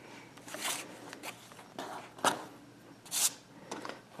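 Fabric being trimmed at a seam with a rotary cutter, a few short, soft slicing strokes up close, one sharper rasp near the middle and another toward the end, quiet between cuts.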